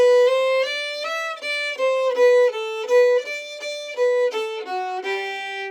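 A fiddle plays the tune "I'm Going To Marry That Pretty Little Girl" at tempo: a steady run of bright bowed notes with clear harmonics moving up and down, close and solo without talk.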